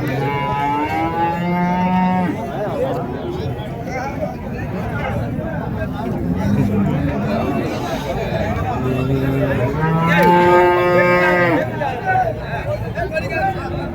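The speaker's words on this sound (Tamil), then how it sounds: "கன்று மாடு ஒன்று எடுத்துகிட்டு வந்திருக்காங்க." Native cows and calves moo loudly at a busy cattle market, with several long, drawn-out calls rising and falling over a steady hubbub of crowd chatter and nearby talking.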